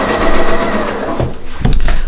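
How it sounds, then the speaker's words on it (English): Sewing machine stitching quilting fabric along a curved edge, a loud, rapid mechanical whir that runs steadily, breaks briefly, then starts up again. "I'm gonna go stitch this onto this curved edge"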